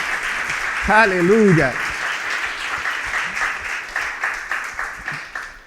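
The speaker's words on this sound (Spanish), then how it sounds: "Puedes darle un fuerte aplauso al Rey." Church congregation breaking into sustained applause after a brief spoken exclamation, the clapping dense and steady before gradually thinning out.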